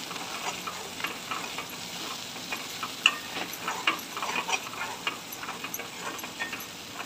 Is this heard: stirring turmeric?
yes